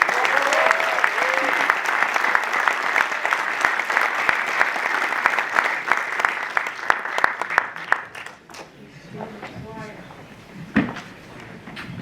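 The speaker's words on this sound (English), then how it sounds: "And a huge round of applause for the director of the film" An audience at a film premiere applauds the director, sustained clapping for about eight seconds that fades out, leaving a few scattered claps and brief speech.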